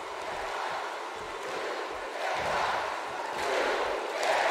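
A wrestling video game arena crowd roars behind tag team champions on a televised event, a constant far-off wash of cheering that swells in waves, loudest near the end.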